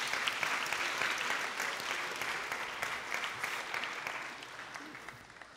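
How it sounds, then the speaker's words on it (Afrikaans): Congregation applauding in a church, a steady wash of many hands clapping that carries evenly throughout and slowly thins toward the end. "Ons gee vir hulle almal 'n hande klap."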